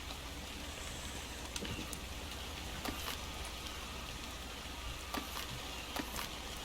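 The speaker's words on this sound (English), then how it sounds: "It is raining." Video game rain in a base-building game falls steadily as a soft, even patter with a few louder drops, faint and continuous throughout, with no talking.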